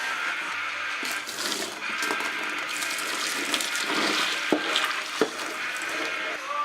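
Cooked potatoes being drained, water pouring and splashing steadily for several seconds with a few sharp clinks of a pot or colander, no voices.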